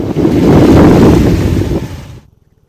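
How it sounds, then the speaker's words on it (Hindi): Floodwater rushes over the Nifra bridge near Bilaspur after heavy rain, making a loud, dense roar with wind buffeting the microphone. The roar cuts off abruptly near the end. "निफरा पुल के ऊपर से पानी बह रहा है।"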